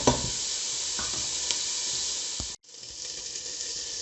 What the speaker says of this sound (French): j'ai fait bien revenir mes lardons, l'oignon et la carotte